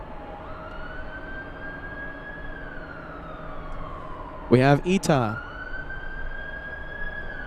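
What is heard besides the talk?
police sirens near LAX airport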